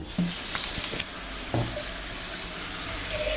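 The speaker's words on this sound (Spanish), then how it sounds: "y ahora vamos a echar agua en el" Water is poured into a cooking pot for Galician cabbage and potato broth, a continuous close splashing and gurgling stream with a few brief clunks early on.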